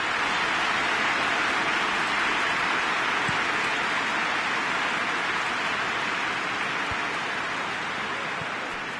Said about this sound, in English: Just starting to get the first signs of rain here.